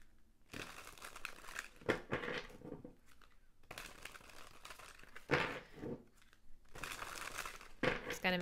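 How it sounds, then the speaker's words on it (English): Crisp papery riffling and crinkling of tarot cards being shuffled in several bursts, close by, with short pauses between shuffles. "Gonna make sure we shuffle really well"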